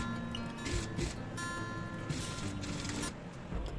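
A sewing machine stitches the hem of a dupatta, its motor whirring close by in short runs with brief stops and ticking clicks in between.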